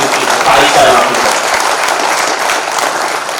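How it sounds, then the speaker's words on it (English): Sustained applause from a crowd at an alumni tribute gathering, steady and loud throughout with dense overlapping claps, swelling slightly early on. "A big applause to those 5 wonderful people, 5 people."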